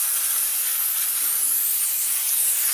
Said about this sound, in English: Brake clean on a brake job.